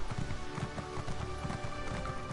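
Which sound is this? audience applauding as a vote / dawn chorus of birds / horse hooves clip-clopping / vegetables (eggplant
horse hooves clip-clopping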